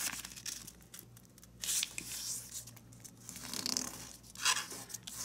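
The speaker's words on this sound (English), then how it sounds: "let's fold this corner up to the midpoint" Origami paper being folded, a corner brought up to the midpoint, makes close crinkling and creasing rustles in several separate bursts, some sharp and papery, with quieter handling between.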